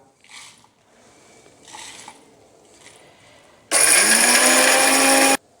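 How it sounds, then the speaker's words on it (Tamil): A kitchen mixie grinds dry-roasted masala for mutton Chettinad gravy: faint clinks and handling come first, then a loud, whining motor burst runs for under two seconds and stops abruptly. "இந்த ட்ரை ரோஸ்ட் பண்ண மசாலையை நம்ம மிக்சியில் போட்டு நம்ம வந்து இதை அரைச்சி எடுத்துடலாம்"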